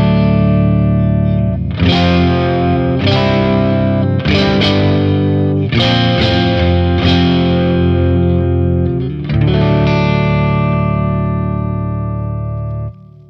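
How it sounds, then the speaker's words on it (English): A Fender Stratocaster electric guitar plugged straight in at low gain rings out a series of strummed chords, each struck and left to sustain richly, loud and alone with added reverb. "So this is the sound of the guitar straight in."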